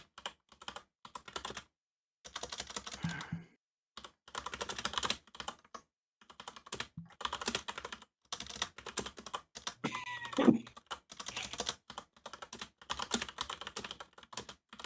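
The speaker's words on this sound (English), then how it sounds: "Intense typing." Rapid, intense typing on a computer keyboard, with dense bursts of clacking keystrokes broken by short pauses and no talking.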